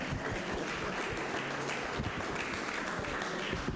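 An audience at a university parents' night gives sustained, moderately distant applause welcoming the university president, a continuous crackle of many hands clapping throughout.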